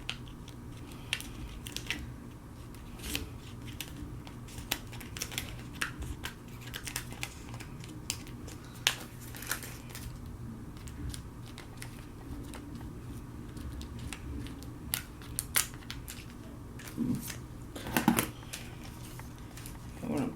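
Scissors snipping around vinyl lettering, small crisp cuts at an irregular pace, close and fairly quiet, with a voice talking intermittently.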